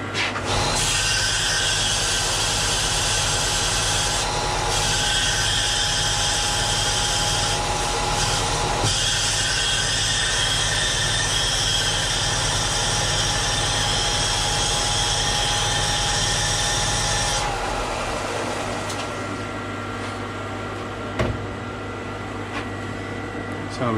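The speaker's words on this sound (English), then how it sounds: "you want to keep a nice tight arc length, but on this sort of stuff it does bubble and spit back" Arc welding on cast aluminium gives a loud, steady electric buzz and hiss with crackling spits, holding close and constant for most of the stretch before cutting off and dropping to quieter background noise.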